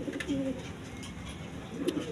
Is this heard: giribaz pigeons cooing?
yes